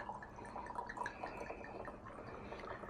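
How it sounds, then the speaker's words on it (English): Chilled Chardonnay, vintage 2023, trickles and splashes into a glass, a soft, close, steady liquid pour with faint glassy tinkles. "we're just gonna pour ourselves a glass of this delicious nectar of the gods"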